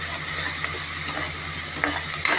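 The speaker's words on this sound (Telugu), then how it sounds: "ఇలా బాగా లైట్ గోల్డ్ కలర్లోకి వచ్చే వరకు వేయించుకుందాం" Onions frying with salt in a pan for a bottle-gourd mutton curry, giving a steady close sizzle with a few soft stirring scrapes and no talk.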